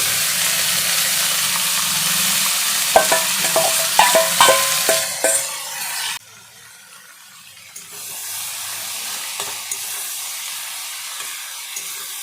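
Chopped banana stem drops into a pan of frying onions for a fish head recipe, a loud steady sizzle with several clattering scrapes, then the hiss cuts out sharply and a softer frying sound resumes, no talk.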